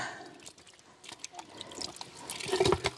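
Cold running water splashes and trickles during washing at a sink or tap, soft and close at first, then growing louder and busier toward the end.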